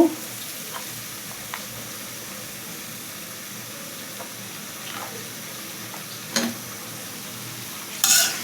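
Tomato, potato and spices for a fish curry are stirred in a pan over a low, steady sizzle, with occasional soft clinks and scrapes of the spoon and a louder clatter near the end.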